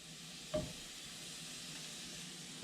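About four tablespoons of butter, half a stick, melt on a grill-side pan, giving a soft steady sizzle and hiss with a brief scrape near the start.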